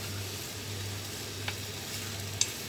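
Canned sardines in hot oil give a steady, quiet sizzle and hiss close by, with a low hum underneath and two brief faint clicks near the end, and no one talking.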